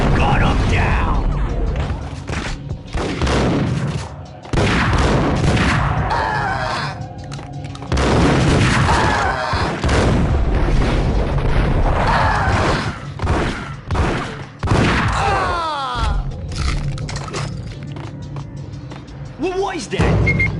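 Rapid gunfire in the video game Max Payne crackles in dense, irregular bursts mixed with booms and thuds, loud and close throughout, with voices shouting between the shots.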